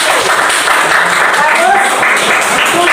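Students in an Islamic studies classroom clap together in steady, loud applause for a classmate who answered a question, the clapping dense and continuous throughout.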